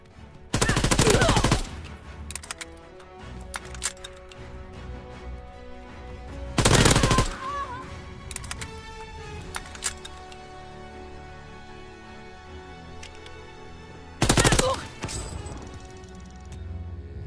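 Call of Duty gunfire from Headquarters multiplayer mode: three loud bursts of rapid automatic fire spaced several seconds apart, over a steady background of game music and ambient noise.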